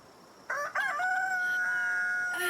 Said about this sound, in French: On a le coq.